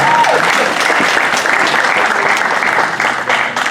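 An audience at a mental health keynote address bursts into dense, sustained applause, a steady wash of many hands clapping loudly and close for several seconds, with no break.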